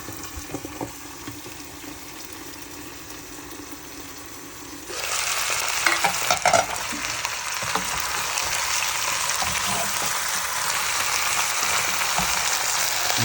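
A whole chicken cooking in Sprite in a pot starts with a low simmer, then a lid or added liquid sets off loud, continuous hissing sizzle and bubbling that persists with small pops.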